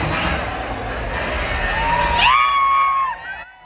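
A dense crowd at a 2025 Ganapati immersion procession in Mangalwarpeth, Hubli, fills the air with continuous loud shouting, plus a rising whistle-like tone near the end before the noise drops away.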